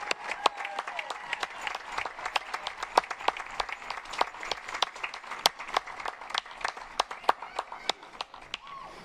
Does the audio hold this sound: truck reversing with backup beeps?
no